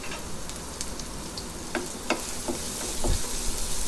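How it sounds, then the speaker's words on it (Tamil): Crushed garlic sizzles and crackles steadily in hot oil with ginger, a continuous frying hiss with occasional sharper pops and stirring sounds. "நல்லா நம்ம வதக்கி விட்டுக்கலாம்."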